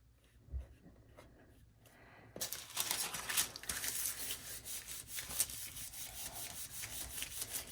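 A polymer clay jewelry piece being rubbed to burnish it: quiet at first, then a close, steady scratchy rubbing friction with repeated strokes continuing to the end, no talking.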